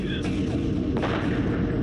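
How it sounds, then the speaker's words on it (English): Weapon fire in Homeworld Remastered, with ion cannons blasting during a space battle: a dense, continuous roar of booming shots and bursts, with a couple of sharper cracks standing out over the constant rumble. "Yep, they're opening fire, good."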